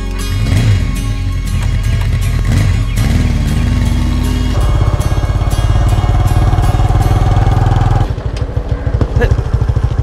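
A motorcycle rides in and parks, its engine rumbling loud and close throughout. The pitch shifts as it slows, then settles into a rougher idle near the end.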